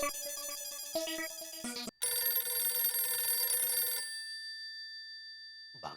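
A telephone rings with a bright electronic ringtone melody, then a sustained chiming tone, loud and alone, before cutting out near the end.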